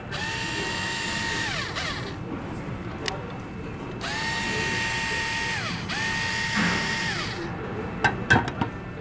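A power drill whirs in repeated bursts, its motor pitch rising and falling as it spins up and down, with some clatter and handling noise around it.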